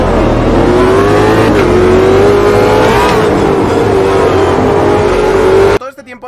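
A small 9-horsepower car engine revs hard and sustained with a steady droning tone, loud and close, then drops out abruptly near the end as a voice shouts.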